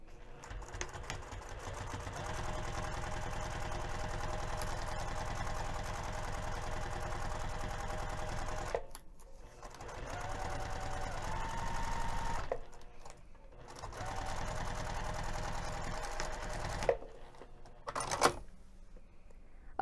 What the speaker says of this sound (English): we're going to sew this pinned edge using a 1/4 of an inch seam